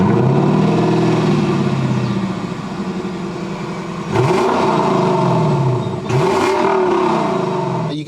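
A Lexus LC500 engine drones and revs while driving on the road. Two sharp throttle rises near the middle and end swell over a continuous loud engine hum, with no voices.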